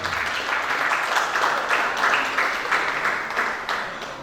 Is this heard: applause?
yes